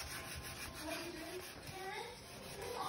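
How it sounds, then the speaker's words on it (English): A stained surface being scrubbed, a faint, continuous rubbing with uneven strokes and a faint voice murmuring underneath. "you gotta scrub that joint. Scrub it real good."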